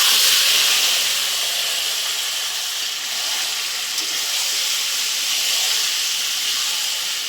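Chicken pieces dropped into a pan of fried potatoes give off a loud, steady sizzle and hiss that holds unbroken throughout, with no voices.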